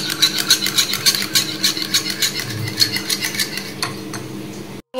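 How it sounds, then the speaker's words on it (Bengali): A spoon mixes yogurt and sauce in a bowl for a chicken curry, producing rapid, rhythmic clinks and wet scraping strokes up close, steady throughout before a brief pause at the very end, with no talking. "আমি এখানে 2 চামচ দই আর 1 চামচ সস নিয়েছি, এটা ভালো করে এর সাথে মিশিয়ে নেব।"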